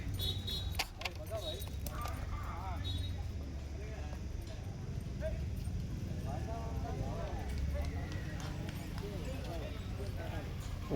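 A white horse's hooves clip-clop steadily on a hard surface at a temple chariot festival in Anthiyur, with a person talking over them and a busy outdoor background.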